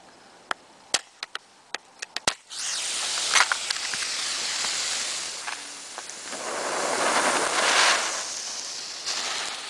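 A Weco Goldregen gold rain firework fountain fires up after several sharp clicks and a strike on a friction surface, then burns with a steady, loud hissing and crackling spray that swells and ebbs.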